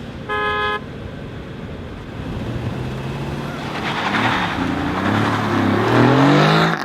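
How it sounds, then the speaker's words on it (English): A drag race between a Tesla P100D and an Aston Martin Vantage: a short horn toot sounds first, then engine roar swells and climbs in pitch as the cars accelerate hard, growing louder toward the end. "The Tesla P100D against the new Aston Martin Vantage. And this is a drag race"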